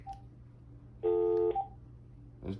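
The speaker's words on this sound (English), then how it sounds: "There's dial tone." Telephone dial tone on a phone line connected to an Xband modem for a Sega Genesis, with a steady low hum and one clear dialing tone burst in the middle, followed by a brief clatter at the end.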